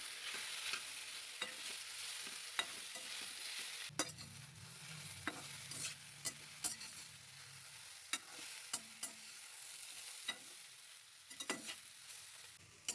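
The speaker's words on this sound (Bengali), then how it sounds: "ব্রোকলিগুলোকে আস্তে আস্তে করে ভালো করে ভেজে নিচ্ছি।" Broccoli pieces frying slowly in oil in a kadai keep up a low, even sizzle, while a utensil scrapes and taps against the pan at irregular intervals.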